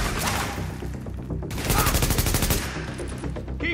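Rapid automatic gunfire in a Brooklyn firefight from The Division, dense bursts of shots rattling nearby and overlapping, with a louder, more intense barrage in the middle.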